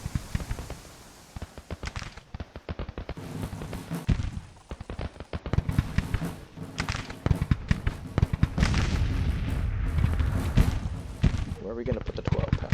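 Civil War artillery and musket fire crackle and boom in Grand Tactician at Pea Ridge, dense irregular volleys of sharp reports with heavier thuds, near and loud, with someone talking over parts of it.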